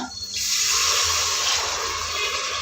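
Water is poured from a glass into cooking masala for kushka rice. It starts as a sudden steady gush that stays loud and close, with a continuous splashing hiss to the end.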